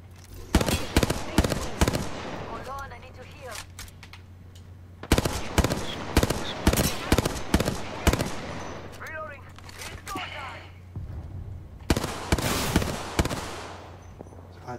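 Rapid gunfire from a gun in Apex Legends, in three loud, dense bursts of repeated shots with short pauses between, plus faint voices and effects in the gaps.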